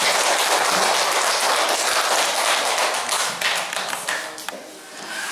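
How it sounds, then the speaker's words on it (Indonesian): A group of people applauding by clapping hands, a dense, lively burst that runs steadily before thinning out toward the end with a few scattered claps, heard close with no talking. "Tepuk tangan untuk Anda sekarang."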